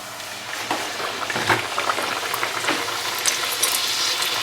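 Chrysanthemum-shaped khvorost dough sizzles and bubbles steadily in heated oil, a dense, close crackling hiss with small pops throughout and no voices.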